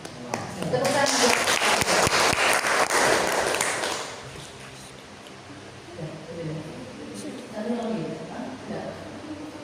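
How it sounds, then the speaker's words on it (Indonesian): Audience applause fills a room at a school dissemination event, a dense burst of clapping for about four seconds that fades into scattered claps and murmuring voices. "Tepuk tangan."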